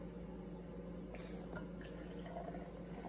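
Hot water trickles and pours into a large cup while making a loaded tea, a soft liquid fill with a few drips over a steady low background hum, quiet and close.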